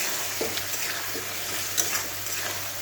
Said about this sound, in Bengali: আবার ভালো করে ভাজা হবে মশলাটা।